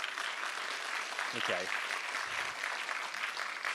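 An audience at the frENSday 2024 conference in Bangkok, Thailand applauds, a broad steady wash of clapping that runs the whole time, with a speaker briefly talking over it.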